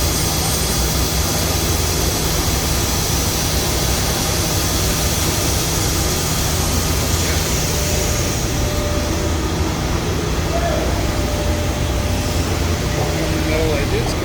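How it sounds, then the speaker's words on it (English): A big belt sander in a snowboard factory thins wooden cores, giving a loud, steady industrial roar with a constant hum and no breaks, with speech likely mixed in. "Big belt sander in there, moving up and down according to the specifications and how thick we want the core to be."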